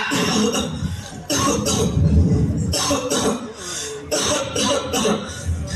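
Repeated harsh coughing fits from a man with a cold and fever in a stage drama, several bursts in quick succession, close and loud with short pauses between them.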